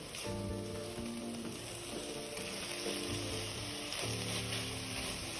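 Coconut filling with cornstarch water being stir-fried in a pan with pandan leaves for tapioca buns: a steady close sizzle with scraping stir strokes, alongside faint background tones.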